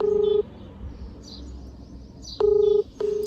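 Telephone dialing tones: a steady two-tone beep, a short gap, then two more beeps in quick succession, loud and clear over faint background noise.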